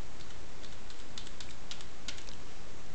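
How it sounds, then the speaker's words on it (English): A computer keyboard clicks in quick, uneven taps while a Wi-Fi security key is typed in during router setup. The faint key clicks sit over a steady bed of broadband hiss. "So I'm typing in my key"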